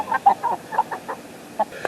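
Backyard chickens cluck softly in short, scattered bursts near a pole barn shed, fairly faint with no voices.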